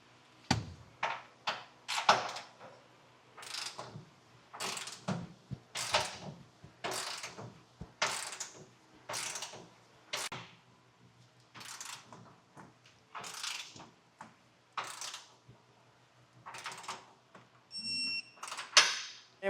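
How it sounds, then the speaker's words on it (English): Repeated ratcheting clicks of a torque wrench tightening base rail bolts for a B&W universal fifth wheel hitch on a 2015 Ford truck, a steady series of sharp metallic ticks at close range with short pauses between strokes. "I'm gonna go ahead and torque them down. And so I'm gonna get my torque wrench here."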